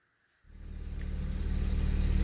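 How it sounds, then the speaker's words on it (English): A BMW 750iL E32 engine fires up in a garage after a brief silence, settling into a steady, loud, close running drone that holds for the rest of the moment. "I'm test running the car right now while it's in the garage"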